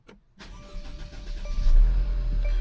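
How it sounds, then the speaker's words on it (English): A Mercedes-Benz C300 W205 with a newly replaced fuel pump cranks briefly, catches and settles into a steady idle, heard up close. "And it started right up."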